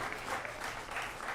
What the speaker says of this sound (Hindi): बच्चों जरा तालियां।